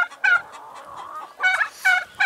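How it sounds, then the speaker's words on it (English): Backyard chickens cluck and squawk close by in short, uneven bursts, several birds calling over one another in a garden setting. "The birds are pretty chirpy today for some reason."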